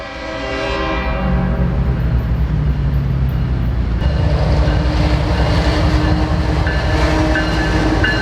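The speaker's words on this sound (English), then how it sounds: "after this train passes" A passing train rumbles loudly and steadily through the whole stretch, its heavy low roar and rolling wagon noise swelling after the first few seconds, with no voices over it.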